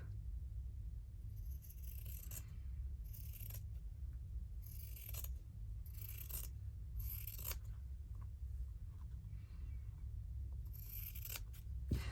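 Scissors cutting through a fabric journal card, a series of short, crisp snipping strokes in bursts, close and fairly quiet over a steady low background hum.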